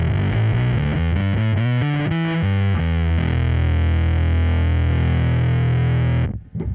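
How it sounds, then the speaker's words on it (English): Heavily fuzzed bass guitar plays a quick run of distorted notes, then holds one thick, buzzing sustained note that cuts off abruptly near the end. "Let's try to isolate the fuzz."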